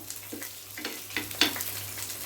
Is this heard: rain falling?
no